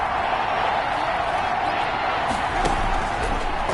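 A steady wash of stadium crowd noise fills a PS4 football video game during a third down, a dense continuous roar with a few brief sharp accents and no pauses.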